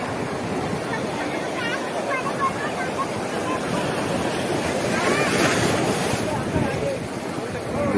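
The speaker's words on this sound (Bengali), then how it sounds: "বড় বড় ঢেউ আসছে, পাথরের উপর আছড়ে পড়ছে ঢেউ" Large sea waves surge and crash onto the rocks at Digha Mohana, a dense, continuous roar with wind buffeting the microphone and a swell building louder near the middle.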